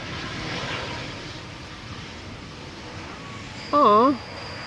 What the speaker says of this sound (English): Bombardier C-Series in the beautiful ITA blue.